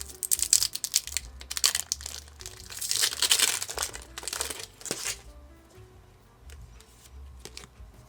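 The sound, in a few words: tearing open a Pokémon Brilliant Stars booster pack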